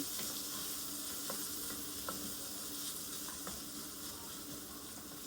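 A large batch of sliced onions frying in a pan while being lightly browned, a steady dense sizzle with occasional faint stirring clicks and no talking.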